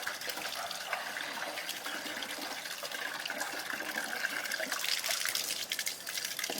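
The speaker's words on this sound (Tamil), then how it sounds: "தண்ணி தாராளமாக ஊற்றி அலசினாதான் நல்லா இருக்கும்." Water poured over freshly cleaned fish to rinse it, a steady splashing gush and trickle that runs continuously at close range, alone without talk.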